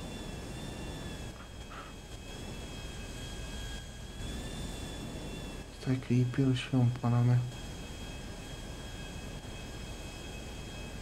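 An airplane's jet engine in the FiveM video game drones steadily in the background with a constant whine, while players talk over it and a short series of loud, rhythmic bursts cuts through near the middle.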